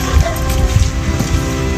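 Several dogs bark in short, muffled bursts against a steady hiss of rain falling on surfaces outdoors.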